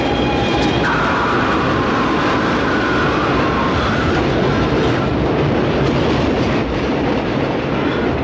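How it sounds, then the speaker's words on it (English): A train rumbles past close by, a loud steady roar of wheels on rails with a faint whine of metal running through it. "This is one train you're gonna want to miss, Shane."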